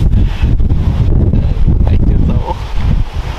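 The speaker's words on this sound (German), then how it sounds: "Hier im Norden geht ein rauer Wind." Rough, cold wind on the North Sea coast at Cuxhaven in northern Germany, with snow starting, buffets the microphone in a loud, continuous low roar that gusts throughout.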